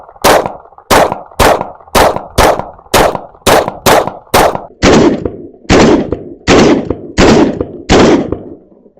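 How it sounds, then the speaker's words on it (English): Rapid pistol gunfire from a Shadow Systems MR920 Elite fitted with a compensator: about fourteen loud, sharp shots in quick, even succession, each with a short ringing tail, close and alone with no talk. "let's shoot some other rounds and see if we can get going just a little bit faster to really test out this comp"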